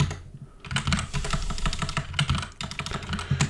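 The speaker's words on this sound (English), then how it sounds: "If I can type." Rapid typing on a computer keyboard while editing a FreeBSD package repository configuration, a steady close run of crisp key clicks throughout with no voices.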